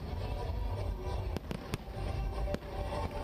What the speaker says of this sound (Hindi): अब आतिशबाजी का शोर, पटाखों का प्रकाश